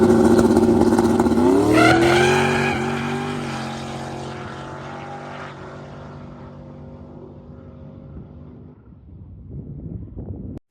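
A drag racing car with added boost makes a pass, its engine revving up loud and close with rising harmonics in the first few seconds, then holding a steady drone as it pulls away and gradually fades into the distance.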